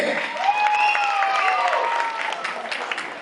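Applause breaks out from the audience at an Onam raffle draw as a prize winner steps forward, sustained clapping with some voices and a faint tone over it.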